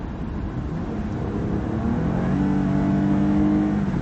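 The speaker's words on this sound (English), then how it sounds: "I'm just going to press the throttle down real quick, and you guys will get an impression of what it's like" A Lexus ES 350 engine from the sixth generation revs under throttle, its steady car drone rising in pitch and loudness as it accelerates smoothly, with no talk over it.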